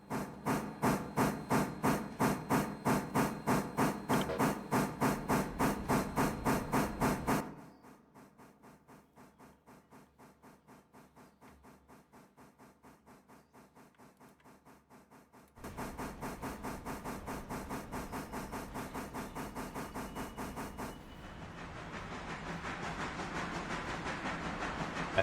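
Steam train running in the Railroader video game: a steady rapid chuffing beat, loud at first, then a quieter stretch with the rhythm still ticking, followed by a return of the loud chuff and a hissing wash at the end.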